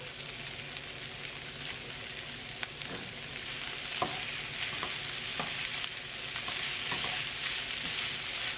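Steady, close sizzling of mixed vegetables frying in sesame seed oil for chicken fried rice, with occasional sharp clicks of stirring across the whole stretch.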